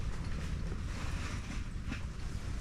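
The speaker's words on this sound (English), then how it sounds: "The wind's really picking up." Strong wind buffeting the microphone out on the ice during an ice-fishing trip at about 25 degrees, a loud, continuous low roar with gusty rushing texture and no voices.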